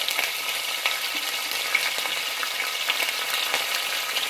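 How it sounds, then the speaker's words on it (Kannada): Ginger garlic paste sizzles in hot oil in a frying pan while cooking a hotel-style kabuli chana masala, a bright, steady crackling hiss with small pops throughout and no talking. "ಸ್ವಲ್ಪ ಶುಂಠಿ ಬೆಳ್ಳುಳ್ಳಿ ಪೇಸ್ಟ್ ತೊಗೊಂಡಿದ್ದೀನಿ ಅದನ್ನು ಹಾಕೋತಾ ಇದ್ದೀನಿ"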